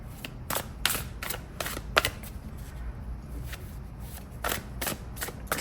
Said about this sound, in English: It's a pretty big deck, so I shuffle